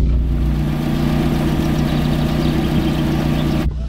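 A cheap second-hand car engine idles with a loud, sporty exhaust note, a steady close rumbling drone that cuts off abruptly at the end, with no talk.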